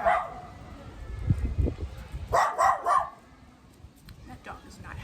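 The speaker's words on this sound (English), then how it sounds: "That dog is not happy." Dog barking at people walking by, a few sharp barks in two short bursts, the second a quick volley, moderately close, with quieter gaps of ambient room noise between.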